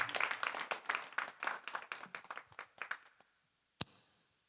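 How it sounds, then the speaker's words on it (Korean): A church congregation claps together in a quick, steady rhythm for about three seconds, fairly quiet and without talk, then falls silent before one sharp knock near the end. "자, 박수하겠습니다."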